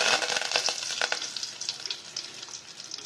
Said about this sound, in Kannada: ಈಗ ಸಾಸಿವೆ ಹಾಕೋಣ